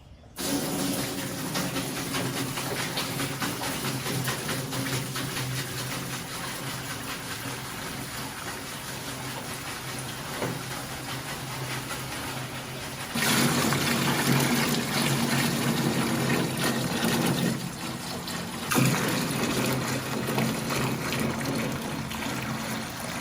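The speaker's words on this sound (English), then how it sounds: "I poured that whole jug in there, and then I filled this up with water" Cleaner poured from a jug into a container for soaking greasy, rusty VW Bus front axle parts, then topped up with water; a steady rushing gush runs throughout, louder and fuller near the middle, close and alone.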